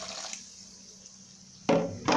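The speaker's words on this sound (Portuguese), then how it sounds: "Vou jogar agora um pouco de água morna, tá?" Warm water poured into a clogged sink drain, a steady rushing splash at the start that pauses and then returns loudly near the end.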